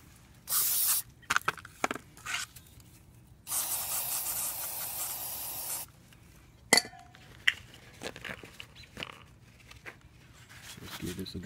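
Aerosol brake cleaner sprayed in two long hissing bursts over the rear brake parts of a 2017 Ford Transit XLT van, the second running several seconds, with metallic clinks of tools and parts around them.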